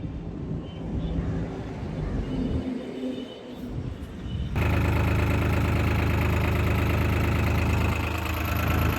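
A steady, loud tractor engine, a new-model 3630 Super Plus, idles with a rhythmic low chugging that starts abruptly midway, after a quieter stretch of outdoor noise.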